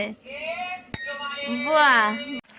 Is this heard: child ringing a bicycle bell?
yes